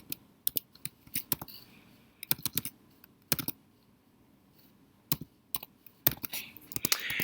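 A computer keyboard clicks in short, uneven bursts as a library number is typed in, the crisp keystrokes close and separated by brief pauses, with no talking.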